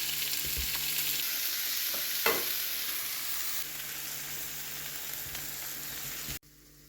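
Lamb neck chops fry in a pan with tomatoes, giving a loud, even sizzle that runs unbroken for several seconds, marked by a few utensil knocks, before cutting off abruptly near the end.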